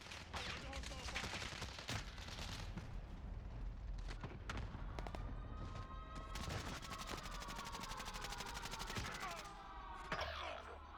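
Rapid bursts of automatic gunfire and shots from Call of Duty: Modern Warfare fill a busy battle scene, steady and loud throughout, with crackling impacts and a ringing tone layered under distant voices.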